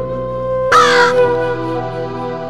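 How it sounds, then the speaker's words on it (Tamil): A single loud, harsh crow caw rings out over a sustained musical backing in a Malayalam song. "காக்கா"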